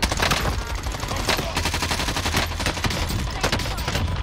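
XM4 rifle fire in the Warzone video game, with dense bursts of rapid automatic shots layered over a constant background rumble, loud and sustained throughout the clip with no talking.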